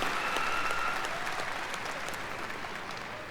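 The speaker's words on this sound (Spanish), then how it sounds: "¿Que no me dais el aplauso?" Applause from the audience at a BlizzCon World of Warcraft panel, a broad, even wash of many hands clapping in a big hall, fairly distant and steady, faintly tapering.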